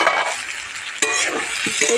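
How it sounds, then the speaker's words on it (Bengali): Potato and pumpkin pieces frying in a pan are stirred with a utensil, a close scraping shuffle over a steady sizzle, with a sharp clack of the spoon against the pan midway. "আবার একটু নাড়াচাড়া দিয়ে দেবো।"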